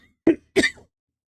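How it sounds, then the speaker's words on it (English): Two quick, close coughs a quarter second apart, the second rougher and trailing into a throaty rasp, then silence. "I need this cough to stop."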